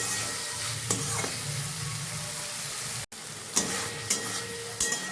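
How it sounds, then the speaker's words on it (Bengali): Fried potatoes being stirred with spices in a pan for egg curry, a steady sizzle broken by a few sharp scrapes and clatters of the spoon. "মশলার সাথে কষিয়ে নিই।"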